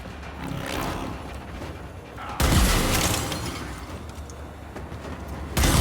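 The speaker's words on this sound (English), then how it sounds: "I walking into my own explosions like a fucking moron" Explosions from an area-of-effect weapon in a video game, a series of booming blasts with shattering debris, one big burst midway and another at the end, heavy and close.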